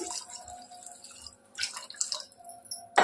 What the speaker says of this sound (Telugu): ఒక హాఫ్ గ్లాస్ వరకు వాటర్ యాడ్ చేసుకోవాలి